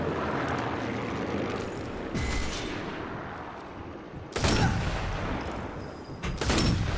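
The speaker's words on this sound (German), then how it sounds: "Flugzeug!" Aircraft flying over in the video game Sniper Elite 4, a steady roaring drone that swells in two loud bursts with sharp gunfire-like cracks mixed in.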